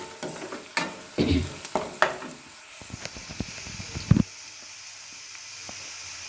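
Turmeric and seasoning frying in a pan for avalakki uppittu, with a spoon clattering and scraping in bursts over a hiss that fades to a quiet, steady sizzle near the end.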